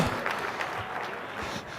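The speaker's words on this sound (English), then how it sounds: "give yourself a round of applause" Conference audience at a real estate summit applauding together, a steady wash of clapping filling the short moment at moderate volume with no voices over it.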